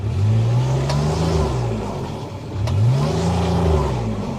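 A 2017 Kubota RTV-X900 utility vehicle accelerates in full drive, its engine revving up twice in rising, falling sweeps with a steady whirring drivetrain, loud and close, with no talk.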